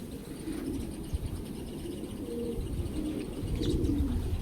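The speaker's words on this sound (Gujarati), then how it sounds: "અહીંયા કબૂતરા સરસ મજાના બેઠા છે કવામાં" Soft, low pigeon coos echo faintly from inside a deep well over a steady hollow rumble, with a couple of brief chirps.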